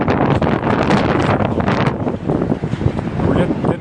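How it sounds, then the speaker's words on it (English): A tailwind rushes past cyclists on a bike ride across Texas near a canyon, a loud, continuous blustery roar buffeting the microphone throughout. "You can hear this wind right from behind us, making this a real comfortable ride."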